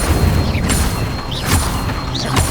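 Fire spell blasts cast in Hogwarts Legacy, a dense roaring burst with whooshing crackle, repeated about three times in quick succession, loud and close with no talk.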